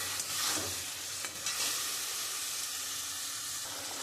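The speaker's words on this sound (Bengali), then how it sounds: "এবার আমি সর্ষে দিয়ে দেবো। আমি জলটা রেখেছি ছেঁকে, আমি ওইটাই দিয়ে দিচ্ছি।" Spices fry in a pan for a mustard curry as mustard paste and strained water are added, giving a steady close sizzle and hiss with soft stirring scrapes throughout.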